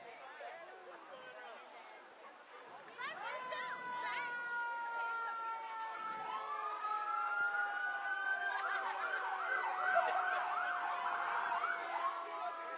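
Fire engine sirens wail and rise at a Christmas parade, several overlapping tones growing louder as the trucks pass, over steady crowd and street noise.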